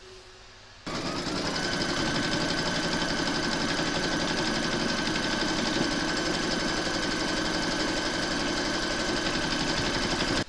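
An embroidery machine stitches round two of a large haunted-house applique, starting abruptly after a quiet moment and then running with a fast, steady mechanical whir and rapid needle chatter.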